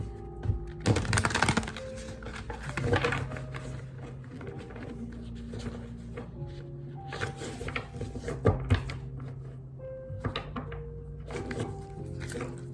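Tarot cards being shuffled in several quick riffling bursts, spaced apart, over a steady low hum in the background.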